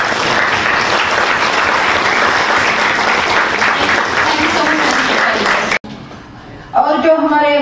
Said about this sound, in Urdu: ان کے لیے بھی ذرا ایک دفعہ آپ تالیاں بجا دیجیے